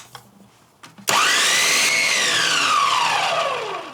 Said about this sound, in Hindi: 2 इंच अदरक का टुकड़ा डालेंगे जिसे हमने छील कर काट लिया है, 2 से 3 हरी मिर्च डालेंगे और इन सबको हमें दरदरा पीसना है।